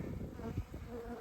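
Honey bees buzz inside an opened hive during an early-season inspection, a steady low drone that carries through the whole moment without speech.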